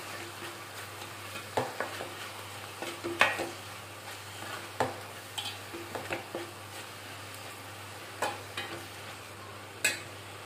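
Pan-frying for an Andhra-style kanagarasalu curry: a steady low sizzle with intermittent scraping stirs and soft clinks of a spoon against the pan, fairly quiet and close, with no talking.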